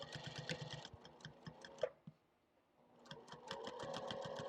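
A sewing machine stitches down a quilted mug rug in fast, even bursts, pausing briefly in the middle before the rapid mechanical ticking resumes, close and clear.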